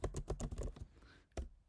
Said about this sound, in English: Suppose I am typing any password.